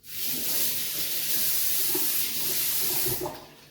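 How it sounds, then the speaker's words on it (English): Tap water runs steadily into a sink as hands are washed under it, a loud close hissing splash lasting a few seconds before the flow is cut off. "wash my hands just a tiny little bit"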